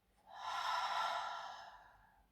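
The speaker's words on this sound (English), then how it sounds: "exhale through the mouth." A single slow breath pushed out through the mouth, soft and airy, swelling and then fading over about two seconds in a quiet room, during a grounding breathing exercise.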